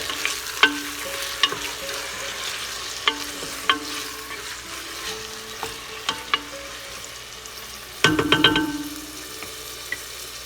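Pork frying in a pan sizzles steadily as a utensil scrapes and taps against the metal again and again, with a louder stirring scrape near the end.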